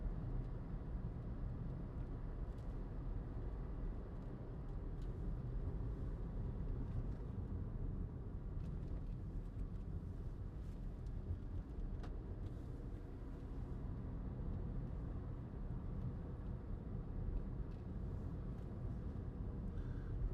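Low, steady cabin drone inside a 2012 Citroen C3 1.6 VTi Exclusive hatchback on the move, a quiet engine and road rumble held evenly throughout with faint clicks and no talking.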